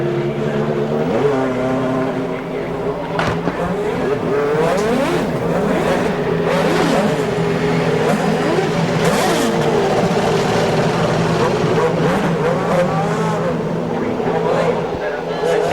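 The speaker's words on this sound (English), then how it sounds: "Teams awaiting the firing of the 18 motors here today." Champ Car race car engines firing and revving on a 2-mile road course, a dense continuous layered roar of many motors with rising and falling pitch throughout, loud and steady.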